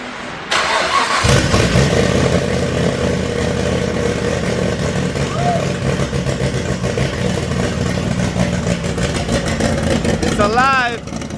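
A Nissan RB32 engine cranks and catches after about a second, then settles into a loud, steady idle close to the microphone, with a brief whistle-like warble near the end.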